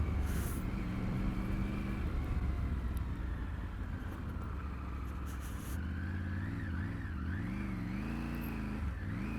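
Triumph Tiger 900 GT Pro motorcycle ridden off-road on a beach, its engine droning close by with rising and falling revs as the throttle changes, and no one talking.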